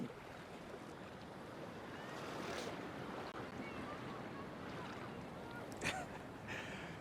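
Ocean waves wash onto the shore on Portugal's south-west coast at sunrise, a soft, continuous surf hiss that swells gently midway, with wind noise faint in the background.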